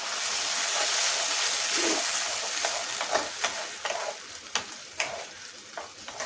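Mushroom chilli sauce with vinegar and salt sizzles in a pan; a steady frying hiss gives way to a series of distinct, rhythmic stirring scrapes.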